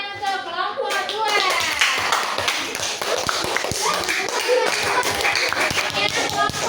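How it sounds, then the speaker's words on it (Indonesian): Classroom applause for a student group during an academic supervision lesson, a burst of many hands clapping steadily for several seconds with a few louder claps, close and busy, with teacher and pupil voices mixed in. "tepuk tangan untuk kelompok 2."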